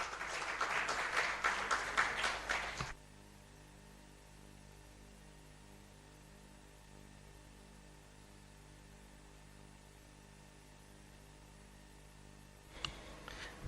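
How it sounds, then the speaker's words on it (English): Conference audience applause at an investment forum, a loud burst of clapping for about three seconds, then a long stretch of steady electrical hum in the room before a brief return of clapping at the end. "Another hand of applause, please."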